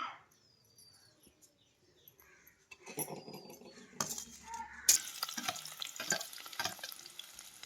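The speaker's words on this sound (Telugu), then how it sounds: "ఉల్లిపాయలు పచ్చిమిరకాయలు టమాటాలు కూడా వేసుకున్నాను మగ్గించుకుందాం మనం" Onions, green chillies and tomatoes fry in hot oil for a stuffed brinjal curry, a faint sizzle and stirring clatter building up after a quiet start, with occasional soft background sounds.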